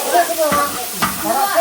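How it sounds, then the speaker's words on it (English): Vegetables are stir-fried in a huge 80-centimeter pot with a long spatula, giving a close sizzle with quick scraping strokes roughly every half second. "When we tried stir frying"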